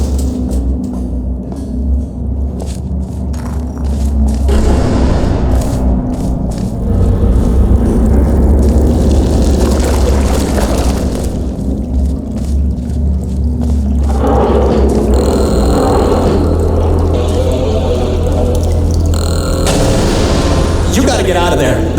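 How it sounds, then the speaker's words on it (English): Heavy rumbling booms and crashing debris from explosions and falling rocks in the video game Portal Stories: Mel, a dense, loud, continuous barrage with sharp impacts and low roaring in between. "The place is exploding. Rocks are falling everywhere"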